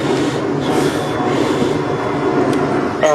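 Steady rumble and rolling clatter from inside a moving London Underground train near Northfields at night, with a constant broadband roar and a faint squeal near the end.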